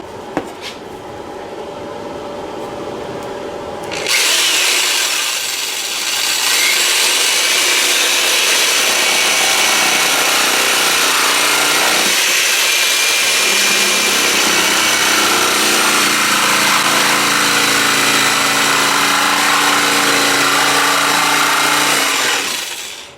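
A power saw cuts steadily through wood on a workbench for a home-made marble run spiral, a loud continuous whine running close and unbroken for most of the clip after a brief quieter start.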